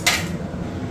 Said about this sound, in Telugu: ప్యాన్ పెట్టేసుకోవాలి.